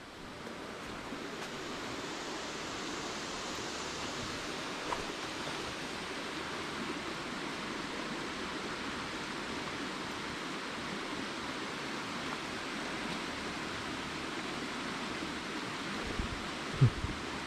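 A constant rush of flowing water from a waterfall fills the whole stretch, steady and fairly loud, with a brief knock near the end.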